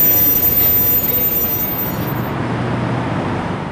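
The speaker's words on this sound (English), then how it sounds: "A single PA arrives into Bakersfield with Golden Gate train number 60." A single Santa Fe PA diesel locomotive pulls the Golden Gate passenger train number 60 into Bakersfield, a loud, close rumble with grinding wheel noise that eases and fades over a few seconds.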